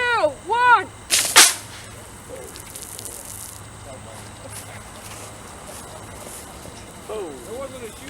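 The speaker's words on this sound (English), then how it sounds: "this is Aeolus 1 at 102 psi in 3, 2, 1" A pressurized model rocket charged to 102 psi launches with a sudden sharp burst of hissing release amid outdoor ambience, briefly loud, then fading; voices speak before and after the launch.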